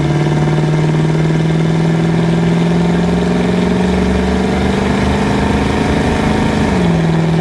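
1984 Chevrolet Blazer with a 350 V8 on a test drive, its engine a loud, steady low rumble from inside the cab, pitch holding level and then dropping slightly near the end.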